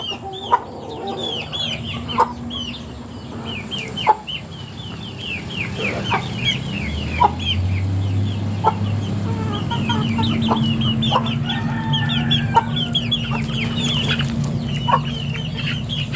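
Several chickens cluck and squawk close by in a lively, agitated flurry as they squabble, with repeated sharp calls and a low rumble underneath.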